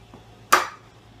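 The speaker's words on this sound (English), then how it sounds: "just start slicing away" One sharp, crisp slice through a raw potato with a kitchen slicer for microwave chips, a single quick close cut against a quiet room.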